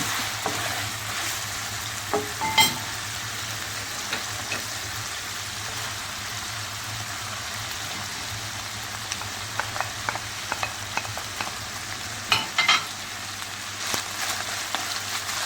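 Onion sizzles in a pan of chicken sauté seasoned with curry spice, a faint continuous frying hiss broken by occasional clinks and scrapes of stirring, with no one speaking.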